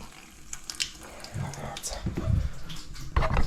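A clogged bathroom sink drain spits water out in uneven splashes and gurgles, close by, which grow louder toward the end.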